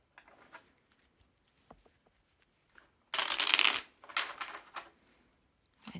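Béline oracle cards shuffled by hand, a few soft riffles early on, then a loud, dense burst of shuffling in the middle followed by a second shorter run, close and alone without talk.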